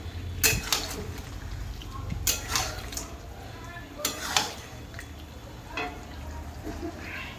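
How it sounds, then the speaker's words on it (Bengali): Chicken being slowly sautéed and stirred in a pan for a Bengali kosha curry, with scattered clinks of a utensil against the pan over a low, steady background, while a person talks. "এইভাবে আমি আস্তে আস্তে করে চিকেনটা কষিয়ে নিব সুন্দরভাবে"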